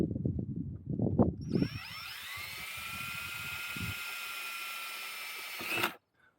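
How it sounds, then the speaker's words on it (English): Power drill boring a 1/4 inch hole, a steady high whine rising as the bit spins up and holding for about four seconds before stopping abruptly, preceded by brief handling knocks. "I'm gonna drill that 1/4 inch hole."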